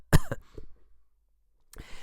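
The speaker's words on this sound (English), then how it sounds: "He coughed." A man coughs once, a short harsh burst up close, followed by a faint throaty exhale and a brief rustle after a pause.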